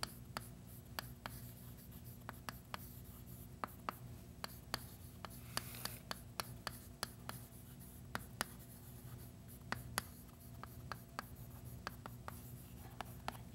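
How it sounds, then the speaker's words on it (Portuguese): Chalk or a marker writes on a board during an arithmetic lesson, tapping and scratching in close, irregular short strokes over a quiet room hum. "vou escrever assim"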